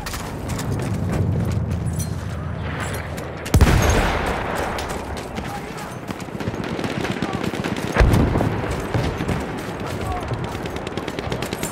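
A Lewis machine gun fires in a First World War video game battle on a Volga river map: rapid, loud bursts of automatic fire with heavier blasts, battlefield clatter and shouting voices mixed in.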